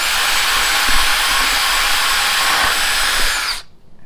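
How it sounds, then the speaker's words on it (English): A loud, steady power-drill whine runs continuously for a few seconds while drilling holes, then cuts off abruptly and leaves near silence. "I'd rather drill more holes."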